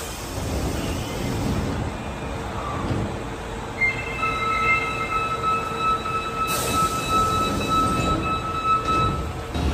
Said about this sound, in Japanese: ドアが閉まって列車が出発していくよっていう感じで